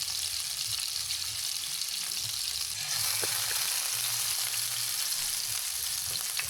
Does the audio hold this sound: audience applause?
no